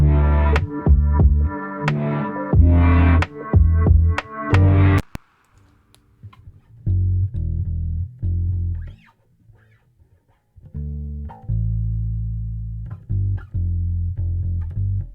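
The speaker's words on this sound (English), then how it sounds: "That sound you're hearing is the piano." Piano notes played freestyle in low and mid registers, clustered chords for the first five seconds, then a brief pause and sparser low sustained notes and held tones, played alone with no talk.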